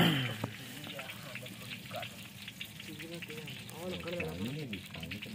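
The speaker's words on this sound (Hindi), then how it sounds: "घ्यो जनाब कढ़ाई दे विच पाता है, ते घ्यो गर्म होना शुरू हो गया है।" Ghee heating in a kadhai (wok) sizzles with a steady, fairly quiet hiss and crackle while someone talks over it throughout.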